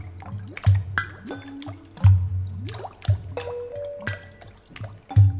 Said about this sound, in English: exploring and creating water percussion sounds